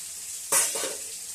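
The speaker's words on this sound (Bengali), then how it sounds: "এগুলো ভাজা হচ্ছে" Cumin and chili paste hits a hot pan and bursts into a sharp, loud sizzle that quickly settles into a softer frying hiss, heard alone and up close.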